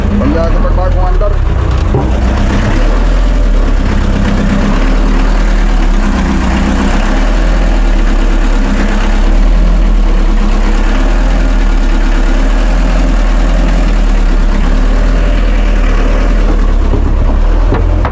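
A Filipino outrigger bangka's engine chugs steadily after being restarted at sea, a loud, close, continuous throbbing idle that runs without a break, with voices faintly audible under it.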